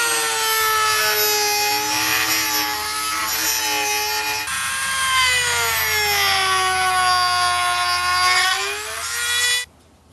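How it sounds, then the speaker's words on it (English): A rotary sander carves serifs into a wooden sign with a loud, steady high-pitched whine and harsh grinding, the pitch dipping slightly under load before the tool cuts off abruptly at the end. "So this is a rotary sander."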